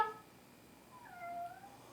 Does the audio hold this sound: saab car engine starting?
no